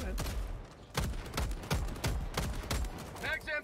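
Rapid bursts of automatic gunfire in the video game Helldivers 2, loud repeated shots in quick rhythmic volleys, with a voice heard faintly among the shots.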